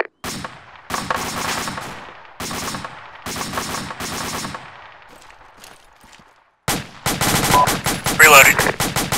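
M240 machine gun fires repeated short bursts into trees, loud and close, with pauses between volleys before a longer sustained stretch of heavy automatic fire at the end.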